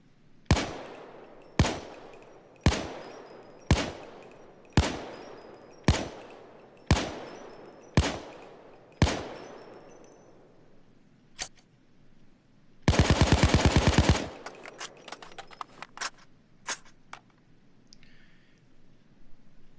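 A Colt 727 assault rifle in the video game Payday 2 firing about nine evenly spaced single shots, each sharp crack ringing out, then a rapid full-auto burst followed by scattered clicks and shots.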